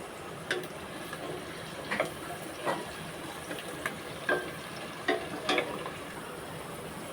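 Onions frying in oil for a chicken curry, a steady soft sizzling hiss broken by sharp crackling pops at irregular intervals, close and moderately quiet.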